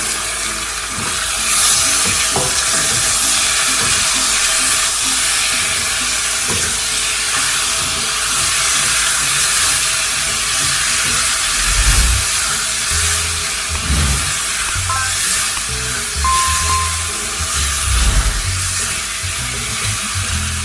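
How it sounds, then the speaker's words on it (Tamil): Marinated mutton liver sizzles and hisses steadily in a hot pan for about twenty seconds, a dense continuous frying crackle with a few low thumps as pieces are stirred, no talk. "லைட்டாக வதங்கின உடனே நம்ம மேரினேட் பண்ணி வச்சிருக்கிற ஈரலை போட்டுடலாம்"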